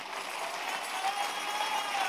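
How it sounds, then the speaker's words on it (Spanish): A church congregation gives a sustained round of applause during a Sunday communion service, a dense, even wash of many hands clapping together with no break. "Denle ese aplauso al Rey bendito"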